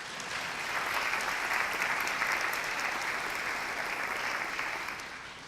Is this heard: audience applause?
yes